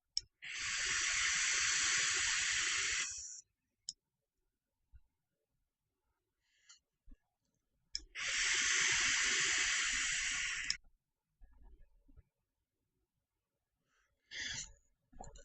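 Two long vapor pulls on a vape loaded with cranberry e-liquid in a 60-40 VG mix, each a steady airy hiss lasting about three seconds, close up, separated by silence and faint clicks.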